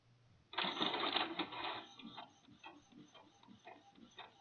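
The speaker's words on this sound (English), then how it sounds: "it should start printing on my little Epson desktop" A small Epson desktop inkjet printer whirs and clatters as it feeds and prints, with rhythmic mechanical ticks and chugs settling into a quieter pattern.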